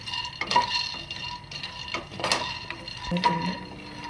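A utensil stirs and scrapes flattened rice (aval) frying in a pan, with repeated close metallic clinks and scraping over a low, steady background.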